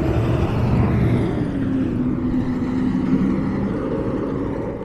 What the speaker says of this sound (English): Once this truck goes by.